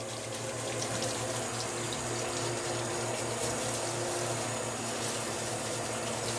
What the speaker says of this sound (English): Okay guys, so I got the hot water going.